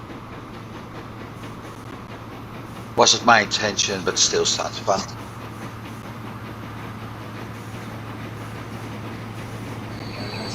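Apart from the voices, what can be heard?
grain train running, from the video game Transport Fever 2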